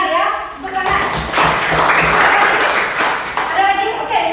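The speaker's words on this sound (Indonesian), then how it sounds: "Tepuk tangan." Applause breaks out in a classroom, a dense patter of many hands clapping that swells and holds for a few seconds before thinning, with children's voices mixed in at the start and end.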